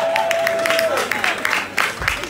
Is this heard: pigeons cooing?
no